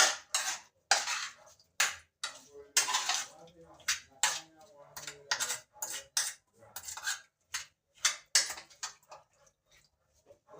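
Metal utensil scraping and clinking in a pot of Jamaican brown stew chicken wings, a run of quick irregular strokes close by, loud and busy, with brief pauses and no talk over it.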